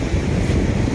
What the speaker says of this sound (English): Little bit of a southwester blowing.